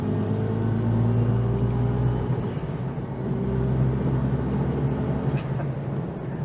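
A V8-swapped Ford Focus engine revs, a low rumble that swells, eases and rises again, heard from inside or near the car at moderate loudness with no talking.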